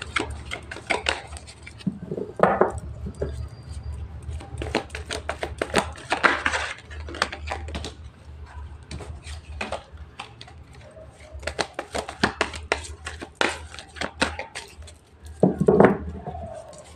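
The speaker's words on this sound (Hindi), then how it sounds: "मैं कार्ड को अच्छे से मिक्स कर।" Playing cards being mixed by hand, giving repeated rapid riffling and flicking bursts with soft slaps, close and moderately loud, with no talking.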